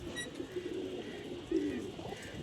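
A racing pigeon from a fifty-kilometre race gives soft, low, rolling coos, with a fuller coo midway, heard close over a murmuring background with faint voices.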